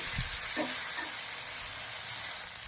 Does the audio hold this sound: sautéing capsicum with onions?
yes